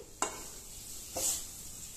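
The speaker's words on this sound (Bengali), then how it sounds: "সমস্ত উপকরণ ভালো করে নাড়াচাড়া করে শক্ত করে নিতে হবে" Two soft scraping strokes as a sweet flour-based mixture is stirred in a pan, each a short gritty swish about a second apart, over a faint quiet background.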